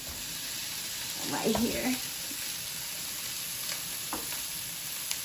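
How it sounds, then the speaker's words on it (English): Steady sizzling of Spam slices frying in a pan, close and continuous, with a brief muffled voice partway through. "I'm gonna go ahead and start frying them."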